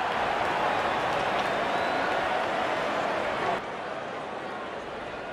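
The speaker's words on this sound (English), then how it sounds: "and the crowd loves it" A cricket stadium crowd at a Pakistan versus Bangladesh Test match cheers and applauds a bowled dismissal, a loud, steady wash of noise that drops to a lower level partway through.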